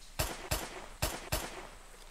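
Four sharp gunshots strike a zombie in the open-world survival game DeadKind, evenly spaced in two quick pairs, loud and close with short decays.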